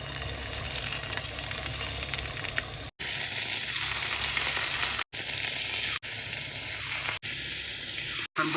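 Sausages fry in hot oil with a constant, dense sizzle, broken several times by brief cuts and faint tonal blips.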